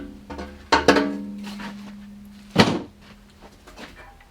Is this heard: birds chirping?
no